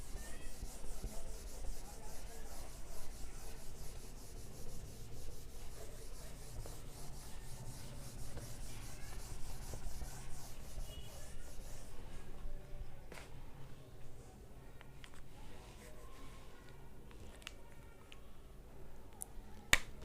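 A duster or cloth rubbing out writing on a classroom board during a Class 10 trigonometry lesson, giving a steady scraping and rubbing that runs continuously for about twelve seconds before fading into lighter scattered taps and rustles.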